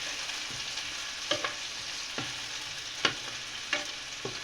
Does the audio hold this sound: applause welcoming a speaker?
no